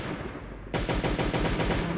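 Automatic rifle fire in the survival game Last Day on Earth, an AK or M16, bursts in after a quiet moment as a fast, even string of loud shots that continues to the end.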